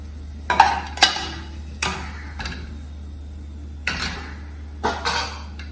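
Spoon scraping masala from a cooking pan into another bowl, several sharp clinking scrapes in irregular bursts, close and fairly loud against a low steady hum.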